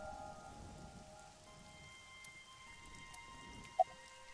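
Rain patters faintly and steadily in a video game scene, a soft continuous hiss with a single brief tick near the end.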